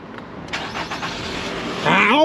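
A car engine cranks and catches after a battery hookup, a rising mechanical whir that swells into a louder running engine near the end, with voices faint in the background.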